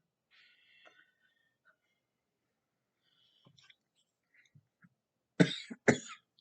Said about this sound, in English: Sorry, candles are making me cough.